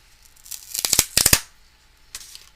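Paper layers for a craft card being cut by hand, a cluster of crisp snipping and rustling cuts close up, followed by a short pause and one more snip in a quiet room.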